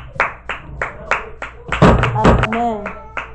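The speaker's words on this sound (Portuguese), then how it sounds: "Ó, salva de palmas para Jesus Cristo." A church congregation claps in praise, starting with a few sharp, separate claps that build into dense applause, with voices calling out over it.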